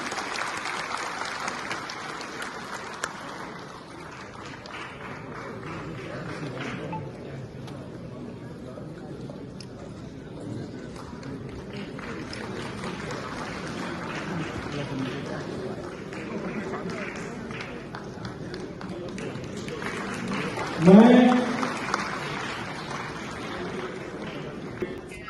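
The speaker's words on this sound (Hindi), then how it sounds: "गुरु पुष्पवंत जी के लिए जोरदार ताली बजाएंगे।" An audience claps in welcome for Guru Pushpavant at a community swearing-in ceremony, a long, steady wash of applause mixed with crowd noise, swelling and receding over about 25 seconds, with a brief louder burst near the end.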